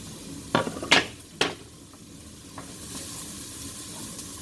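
About a cup of chopped celery hitting hot chicken fat in a pan, with a few sharp clatters of a utensil stirring against the pan, then a quiet, steady sizzle.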